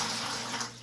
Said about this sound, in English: Just wring out your towel